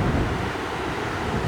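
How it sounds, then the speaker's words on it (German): A river running high rushes past in Sardinia, a steady broadband roar of water, dense and continuous with no talking over it. "der Fluss führt jetzt ziemlich viel Wasser"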